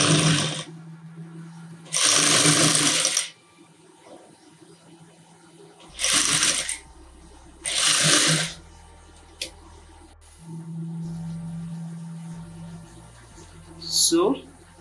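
A sewing machine stitches a bell sleeve seam in several loud bursts of rapid mechanical whirring and clatter, separated by quiet pauses and soft handling of fabric.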